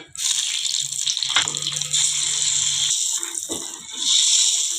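Peanuts frying in hot oil for tamarind rice, a steady bright sizzling hiss that runs close and continuous throughout, with a few soft low knocks from the pan.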